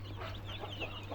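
Chickens in a coop give soft, brief clucks over a low steady hum, faint and close by with no voices.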